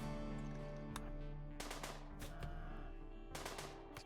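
Gunfire in the colony game RimWorld comes as faint, short bursts of clattering shots, a few separate volleys over a steady low background hum.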